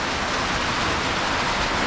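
Steady, dense rain hisses without a break, a loud wash of falling water with a windy roar behind it.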